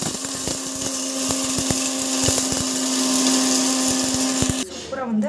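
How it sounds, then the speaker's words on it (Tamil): A kitchen mixer grinder whirs loudly and steadily as it grinds roasted bisi bele bath spice powder, a sustained motor drone with rattling pulses that cuts off abruptly near the end. "மிக்சியில் போட்டு அரைச்சிக்கணும்."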